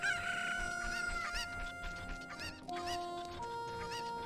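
Chickens cluck and a rooster crows in the video game Zelda: Ocarina of Time (HD textures), a busy, layered clamor of game fowl with tonal game music underneath, no talking.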